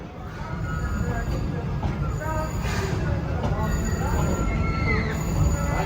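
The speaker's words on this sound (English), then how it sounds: "So, all right, here we go on the train." The River King Mine Train, a mine-themed roller coaster of ore cars at Six Flags St. Louis, rumbles along its track. Wheels squeal and clatter steadily under crowd noise and scattered voices.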